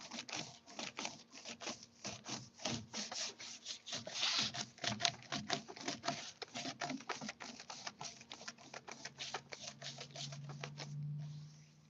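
Brush strokes blending paint across a wooden furniture piece, a quick run of soft rhythmic swishing rubs, close and moderately quiet, easing into a steadier low brushing at the end.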